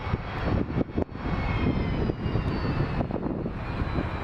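An Air Canada airliner taxis at Montréal-Trudeau airport, its jet engines producing a steady, loud roar and whine that continues throughout with slight fluctuations.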